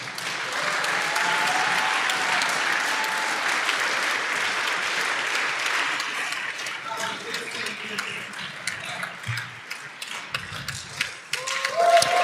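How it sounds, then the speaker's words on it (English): A crowd at a programming contest closing ceremony applauds during a trophy photo, loud clapping at first that thins and turns uneven, with scattered cheers and voices near the end. "let's give them a big hand applause"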